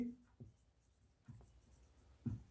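Short scratchy strokes of writing an equation on a board, a few brief marks spaced apart and fairly faint, alternating with a teacher speaking.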